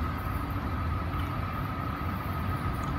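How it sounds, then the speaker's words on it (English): A northbound train, Train 1, rolls past at Dania Beach, Florida, a steady loud low rumble with a constant hum and no voices. "Train 1, northbound."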